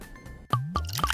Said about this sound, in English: To pour the mysterious goo inside of it.